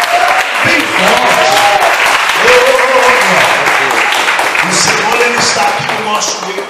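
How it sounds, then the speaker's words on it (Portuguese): Loud, continuous applause from a church congregation with steady clapping, while voices talk or call out over it, fading slightly toward the end. "Você pode aplaudir a Jesus bem forte."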